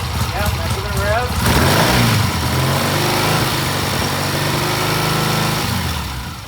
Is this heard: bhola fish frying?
no